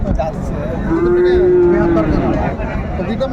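A Sahiwal cow lets out one sustained moo at a cattle market in Pabna, set against steady crowd murmur and background chatter from the busy livestock trading ground.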